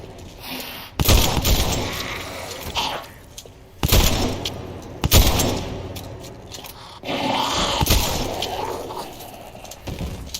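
Shotgun fire in the zombie game Dead Island 2: a handful of heavy booming blasts spaced a few seconds apart over scraping, grunting combat noise and a busy game soundscape.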